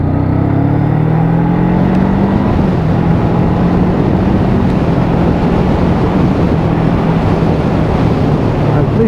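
A Voge 500AC motorcycle on a test ride, its engine droning steadily under heavy wind rush at speed, the pitch rising briefly early on, loud and continuous without talk.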